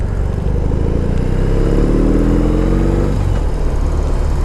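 A custom BMW R18 motorcycle with its big-displacement boxer twin revs up loud and close, engine note climbing through the middle of the clip and then dropping back to a deep, throbbing idle.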